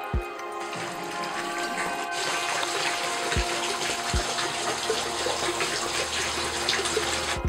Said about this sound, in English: It's just kind of the whole thing's just a huge toy that squirts water.